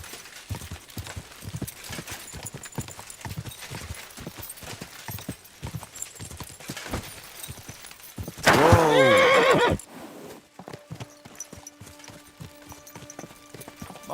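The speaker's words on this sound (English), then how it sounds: "What a beautiful horse." A horse whinnies loudly for about a second midway through a medieval role-playing game scene in Kingdom Come: Deliverance II, amid steady clip-clopping hooves and ambient game sounds before and after.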